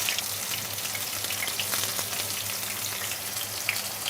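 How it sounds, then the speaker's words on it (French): Thin breaded turkey escalope slices fry in a pan with a constant, close, crackling sizzle that holds steady at even loudness throughout. "ajouter donc nos fines tranches d'escalope panées, juste comme ça, à cuire"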